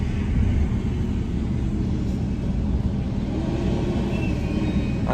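A 1966 Ford F100 pickup with a fuel-injected 302 V8 and a five-speed rolls in, its engine a steady low rumble that holds close and fairly loud throughout, with no voices over it.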